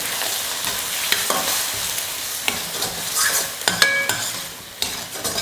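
A brinjal and egg fried rice mixture is stirred in a frying pan, with scraping spoon strokes and light clinks over a soft, continuous sizzle.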